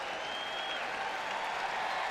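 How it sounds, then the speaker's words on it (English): Baseball fans at an Orioles–Nationals game clap as pitcher Ross leaves after giving up a home run: a steady, even wash of distant stadium applause that holds throughout the short moment. "And the fans already begin to applaud."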